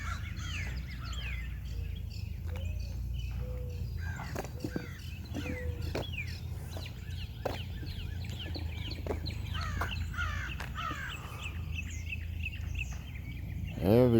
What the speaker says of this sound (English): Oh yeah, the birds are loving it.